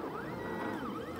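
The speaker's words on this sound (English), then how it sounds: "we are printing on my new Delta printer" A Rostock Delta 3D printer fitted with a direct-drive E3D Titan extruder prints quietly, its stepper motors giving a faint whine that rises and falls in smooth sweeping tones over a soft mechanical hum.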